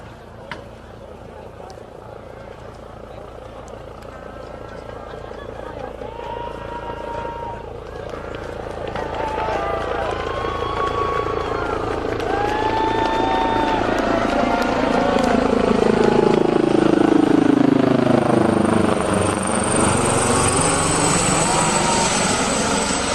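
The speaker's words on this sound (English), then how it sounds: "It's coming right over the field." A helicopter approaches and passes low over a high school football field at a Heroes Night game, its rotor and engine drone swelling from moderate to loud and close, with faint crowd and announcer sounds beneath.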